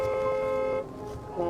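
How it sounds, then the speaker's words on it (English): Car horns sound at a green light, a steady tonal honk holding through the whole moment with a brief dip and then a renewed blast near the end, fairly loud, with a voice faintly present. "That's why people are honking."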